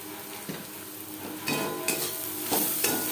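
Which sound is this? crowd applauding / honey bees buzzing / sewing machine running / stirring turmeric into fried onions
stirring turmeric into fried onions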